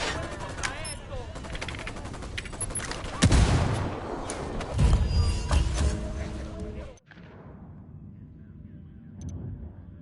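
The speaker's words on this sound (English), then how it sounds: "Shit, incoming mortar fire." Mortar and gunfire in Tom Clancy's Ghost Recon Wildlands, heavy bursts of shots and thudding impacts rolling together, peaking in two loud blasts before cutting to a quieter, distant rumble of fire.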